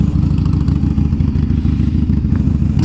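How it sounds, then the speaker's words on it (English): A 2014 Harley Davidson Iron 883 with Vance & Hines exhausts idles close by, a loud, deep, steady lumpy rumble with no talk. "2014 Harley Davidson Iron 883. It has Vance & Hines exhausts."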